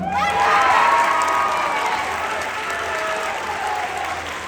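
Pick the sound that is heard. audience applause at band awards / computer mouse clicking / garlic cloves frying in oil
audience applause at band awards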